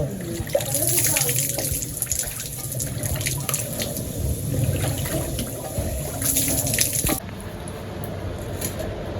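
Water splashes steadily and fairly close as someone bathes in a village on a hot day, a continuous wet churning with soft slaps and trickles, with faint voices in the background.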